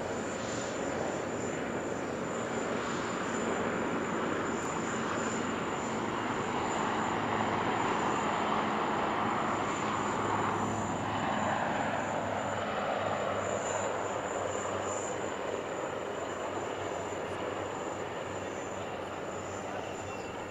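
HAL Dhruv helicopters of the Sarang display team at the Dubai Airshow drone steadily with a broad rotor-and-engine rumble that swells slightly midway, continuous and without speech.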